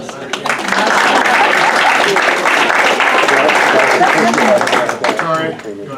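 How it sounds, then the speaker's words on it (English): Audience applause at a school board meeting, a dense sustained burst of clapping that swells quickly, holds steady for several seconds and tapers off near the end, with a few voices mixed in. "A round of applause for Mr."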